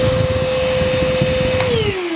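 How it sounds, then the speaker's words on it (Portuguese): Einhell cordless blower running steadily with a loud, constant whine and airy rush, the motor pitch dropping near the end as it winds down. "Ele é soprador, aqui ele é soprador, ó."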